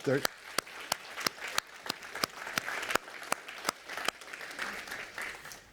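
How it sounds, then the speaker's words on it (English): Sparse, distinct hand claps ring out in a church congregation at an anniversary gathering, forming a loose uneven rhythm at low volume with murmuring voices between them. "Let's give them a big hand clap."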